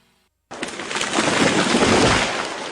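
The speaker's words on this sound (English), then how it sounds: "That was the sound of a tree falling." In a radio ad, a tree-falling sound effect bursts in after a short silence as a loud, broad crashing rush of breaking wood and foliage that swells and keeps roaring.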